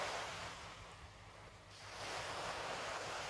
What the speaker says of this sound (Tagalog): Malalaki ang alon dito sa lugar na to.